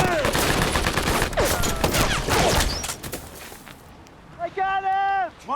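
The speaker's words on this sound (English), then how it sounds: "Hodges, lay down some fire!" A war movie battle scene set on D-Day fills with rapid rifle and machine-gun fire and loud overlapping bursts. Shouting voices cut through the shooting, then the fire thins out into a few last shots.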